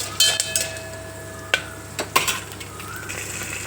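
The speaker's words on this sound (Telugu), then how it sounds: "పోపు ఒక వేగుతుందనగా కొద్దిగా ఎండుమిరపకాయలు వేసాను" Mustard seasoning and dried red chillies sizzle softly in hot oil while a utensil clinks and scrapes the pan a few times.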